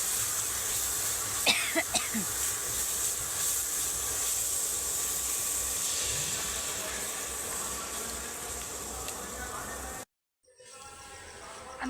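Water poured into frying chilli powder masala in a pan, raising a loud, steady hiss of steam that continues for several seconds before cutting off abruptly.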